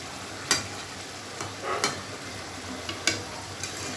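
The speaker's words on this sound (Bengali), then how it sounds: "এবার ভালো করে একটুখানি হালকা নেড়ে টেড়ে এগুলো ভিতরে ঢুকিয়ে দেবো" A spatula stirring eggplant and loitta fish (Bombay duck) frying in a pan: a low continuous sizzle broken by a few sharp scraping clicks at irregular intervals, fairly quiet and close.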